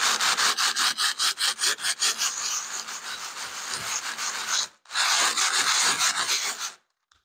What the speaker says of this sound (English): And some rough sandpaper.